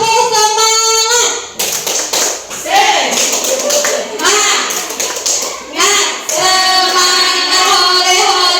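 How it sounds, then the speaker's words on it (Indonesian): A classroom of children performs a tepuk semangat chant, their voices calling out in unison over bursts of rhythmic hand claps, loud and close, with speech-like chanting between the clapping runs. "marilah kita tepuk semangat."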